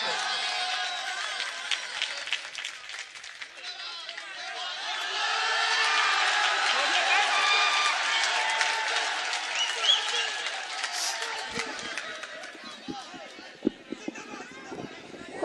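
Applause and crowd noise from the audience at a mushaira welcoming the poet Intikhab Alam Sambhali, sustained clapping with some cheering and murmured chatter, fading toward the end.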